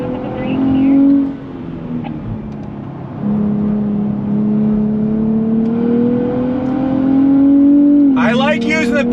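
A 2023 Nissan Z Performance engine drones steadily near the cabin through paddle-shifted gears, rising in pitch, dipping sharply on a shift, then climbing again before a quick rev burst near the end.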